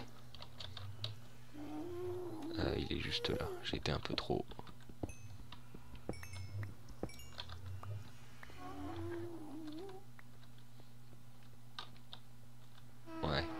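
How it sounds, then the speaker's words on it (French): Soft clicking of a computer keyboard, heard in short bursts while someone talks quietly in French over a low steady hum, with brief faint animal-like squeaks mixed in. "Vous devez entendre mon clavier."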